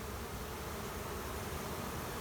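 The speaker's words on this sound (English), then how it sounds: "A pretty nice bunch of bees in there." A dense, continuous buzz of a honeybee swarm from a hive, steady and close throughout.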